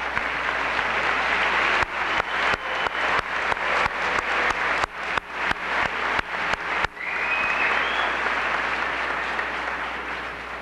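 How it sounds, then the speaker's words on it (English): Applause at a 1998 Norristown high school commencement: a broad crowd wash with sharp, rhythmic claps standing out near the microphone in the middle stretch, then the sound thins to a lighter, sustained patter. "Please take a minute with me and give a round of applause to our school board members who are with us today and our faculty and staff"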